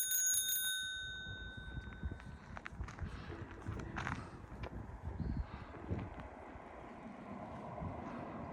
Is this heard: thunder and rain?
no